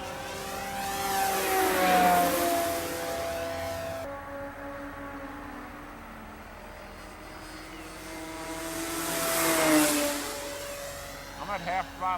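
A Durafly Cessna 182 RC model airplane at half throttle, its small electric motor buzzing as it passes overhead, fading out, then swelling back on a second close pass, with faint wind and talk nearby.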